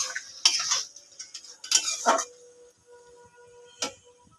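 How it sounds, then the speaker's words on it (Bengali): Spices being stirred into taro stems (kochu loti) in a pan, with a few scattered scraping and clinking strokes of a spoon against the pan, close and fairly quiet, separated by pauses. "এবার ভালো করে নেড়ে কষিয়ে নেব।"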